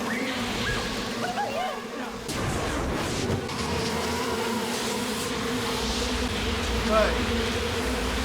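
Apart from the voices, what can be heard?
swarm of bees buzzing, from a TV show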